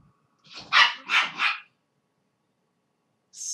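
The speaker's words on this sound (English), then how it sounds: "Stupid dog." A dog barks three times in quick succession, loud and close, followed by a pause and the start of a fourth bark at the end.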